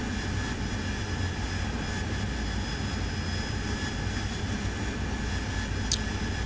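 An AV-8B Harrier jet in the flight simulator DCS makes a steady, loud engine roar throughout its landing approach, with a continuous broadband rumble and a brief sharp click near the end.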